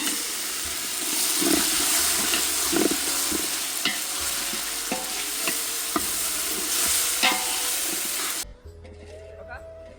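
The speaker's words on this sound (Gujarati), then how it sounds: "તો હવે આપણે નાખી દઈશું ટામેટા." Tomatoes frying in a hot garlic-ginger gravy, a loud, steady sizzle with intermittent stirring clinks and scrapes, dropping away sharply near the end.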